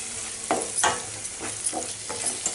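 Mango pachadi with jaggery is stirred in a pan on a low flame: rhythmic scraping strokes, roughly a few per second, over a gentle ongoing sizzle.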